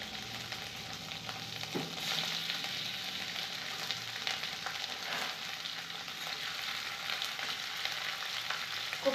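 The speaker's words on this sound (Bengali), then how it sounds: "মোটামুটি তেলটা গরম হয়ে গেছে, কফিটা একটু ভেজে নেব।" Cauliflower pieces, precooked with salt, frying in hot oil, a soft steady sizzle and hiss throughout with a brief clink early on, fairly quiet and without voices.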